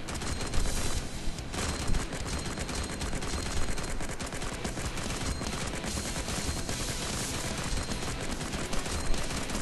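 Rapid automatic gunfire in a zombie mode video game, dense sustained bursts of shots rattling continuously at close range, with no pauses and no talking over them.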